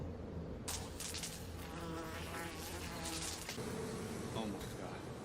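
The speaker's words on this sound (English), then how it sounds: "is that bees?" A dense swarm of bees buzzes constantly close by, with excited voices talking over the droning hum.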